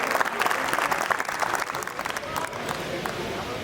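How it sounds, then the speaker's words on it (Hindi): Audience applause at a kavi sammelan poetry recital held by Marwadi Yuvak Mandal in Gondia: a fairly soft, continuous patter of many hands with some voices underneath, easing slightly toward the end. "एक बार तालियां बजाकर समर्थन करें"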